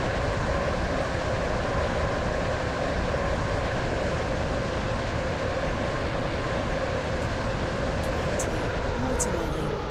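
A steady rumble of a two-coach train in a video game runs throughout at moderate level, with a few faint high squeaks or clicks near the end.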